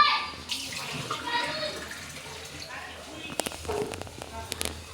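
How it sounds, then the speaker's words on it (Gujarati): Water is poured into a cooking pot for a gravy vegetable dish, a close splashing and trickling pour with a few knocks of utensils and faint voices in the background. "એટલે ચાલો પાણી એડ કરી દઈએ."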